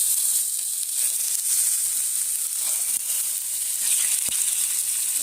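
Marinated fish pieces fry in hot mustard oil, giving a bright, steady hiss with a few faint pops and soft clicks, close up and uninterrupted by talk.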